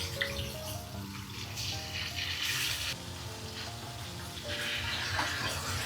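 Flour-coated mackerel fries in hot oil in a pan, giving a steady, close crackling sizzle that swells slightly in places, with no talking.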